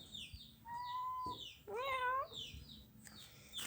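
A cat outdoors gives two drawn-out meows in quick succession, the second more wavering, close and clear, with birds chirping faintly in the background.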